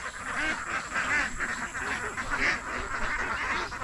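Ducks quack repeatedly in a busy, overlapping chorus near a pond, loud and close with continuous calls throughout.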